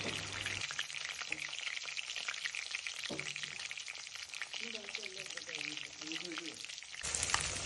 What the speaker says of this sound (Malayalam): എണ്ണ ചൂടായി കഴിയുമ്പോഴത്തേനും നമുക്ക് ഓരോരോ കഷ്ണങ്ങളായിട്ട് അതിനകത്തോട്ട് ചേർക്കാം.